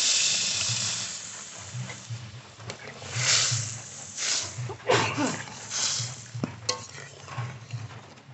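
Water hits a hot fried spice paste for a crab curry, setting off bursts of hissing sizzle with clatters of a pot and utensil, loud and close, rising and falling over several seconds.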